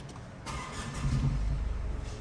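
A car engine runs after servicing, making more noise than expected. Its low, steady rumble swells slightly and holds at a moderate distance, with no talk over it.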